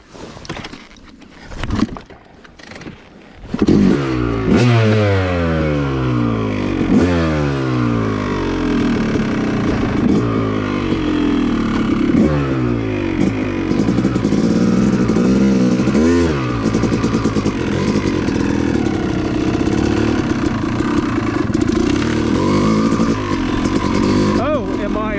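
A Yamaha YZ250 two-stroke dirt bike rides the Wambaw Cycle Trail OHV North Loop. Its engine runs loud and close the whole way through, rising and falling as the rider shifts gears and opens and closes the throttle, with some brief sounds before the bike gets going.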